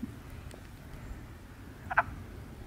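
Wood frogs in a vernal pool, a single short clucking croak at moderate distance over a quiet, low background.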